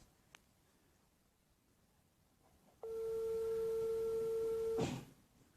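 A single sustained ringback tone on a phone call placed in Turkish, lasting about two seconds over a low background hiss and ending in a short click.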